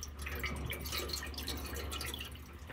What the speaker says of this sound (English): There's water pouring out of the bottom of the car. It's leaking out of the bypass hose.